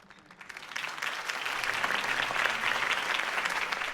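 Dense crowd applause in Batman: The Telltale Series swells up after a brief quiet start and holds steady and loud, a sustained wash of many hands clapping.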